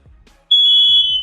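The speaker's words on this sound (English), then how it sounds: "I got smoke detectors going off." A house smoke detector sounds one loud, steady high-pitched electronic beep lasting under a second, with faint low room noise around it.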